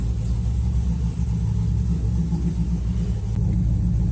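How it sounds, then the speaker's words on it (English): A Camaro engine with FiTech fuel injection idles high at about 1700 RPM. It gives a steady, deep, close rumble that holds even throughout with no talking. "just let it run for a minute. The idle's at like 1700 RPM"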